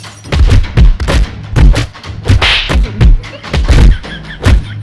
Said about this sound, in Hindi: और तू 100 नंबर के साथ ये 100 वर्ल्ड का थप्पड़ भी ले